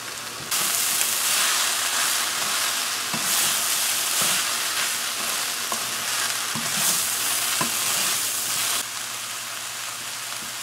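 A soya chunks curry fries and sizzles steadily in a pot, with a loud, continuous hiss and occasional scraping stirs heard close up. There is no talking.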